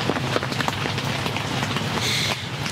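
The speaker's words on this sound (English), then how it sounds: "It's raining" Steady rain falling outdoors around a deer hunting blind, a dense continuous patter with a brief brighter burst near the end, no voices.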